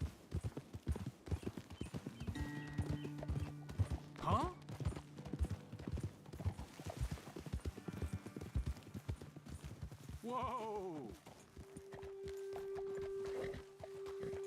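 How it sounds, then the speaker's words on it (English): Several horses walk along a road in the video game Red Dead Redemption 2, hooves clip-clopping in a steady uneven rhythm up close, with whinnies and snorts breaking through and faint background music beneath. "let's dismount here. Best leave the horses back a bit."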